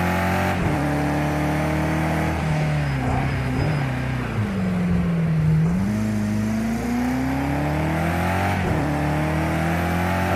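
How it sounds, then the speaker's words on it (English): A race car engine in the Project Cars 2 racing game, revving loud and close with a droning tone that dips as the car slows and climbs again as it accelerates. "Sounds like it's revving down so far, but it's really not."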